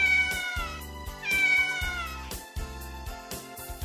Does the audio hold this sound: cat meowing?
yes